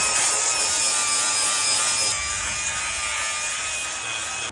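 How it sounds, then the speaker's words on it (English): Continuous, loud, close abrasive grinding and rubbing of a power sander stripping old paint off a street curb, a hissy scraping roar holding steady with a slight drop in intensity partway through; no voices. "We're going to sand everything off on it."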